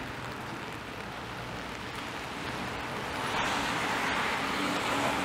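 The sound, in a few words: rain on Danforth Avenue street with passing cars, Toronto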